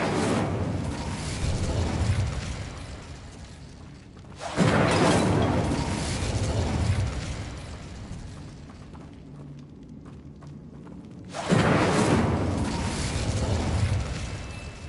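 Incendio fire spell cast in Hogwarts Legacy, heavy roaring whooshes of flame that surge loudly, sustain for several seconds and fade, repeated three times in succession.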